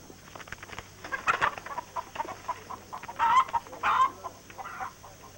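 Chickens cluck in short, irregular bursts at moderate distance, with a few louder squawks among quieter background clucking.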